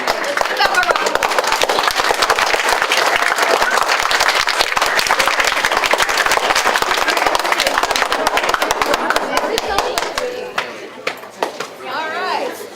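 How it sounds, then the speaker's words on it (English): An audience applauds fifth graders at a DARE graduation, sustained dense clapping that holds loud for about ten seconds, then thins to a few scattered claps and murmuring voices. "Let's give them a round of applause"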